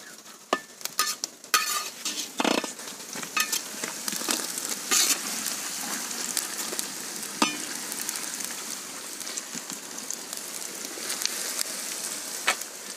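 Onions and green chillies crackle and sizzle in hot oil for a turkey curry, a dense close frying hiss dotted with sharp pops and spatula scrapes, no speech.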